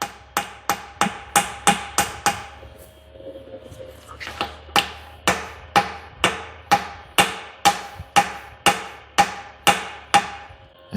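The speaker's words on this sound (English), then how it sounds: "you just hammer it around until it's seated like that" Steady metallic hammer strikes seat a wiper seal into a Kubota hydraulic cylinder, about twenty sharp evenly paced blows close by, with a brief pause midway before the rhythm resumes.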